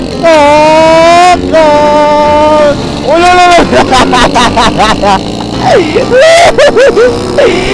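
A Honda CBR motorcycle engine revs repeatedly in sharp rising bursts, loud and close, with excited voices and crowd noise mixed in.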